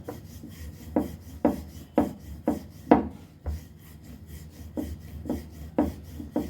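A rolling pin flattens horse gram chapati dough with steady rhythmic strokes, each soft rubbing scrape about half a second apart, close and fairly quiet with no talking.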